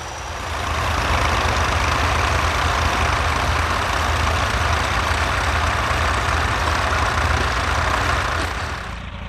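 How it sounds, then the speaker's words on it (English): A David Brown tractor's heavy diesel engine runs steadily at a constant idle, loud and close, with a deep rumbling throb throughout. "Our next two tractors are this David Brown 770 Selectomatic and a David Brown 880 Implomatic"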